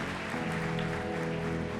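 A church congregation clapping, a steady dense wash of applause that fills the whole moment without any voices.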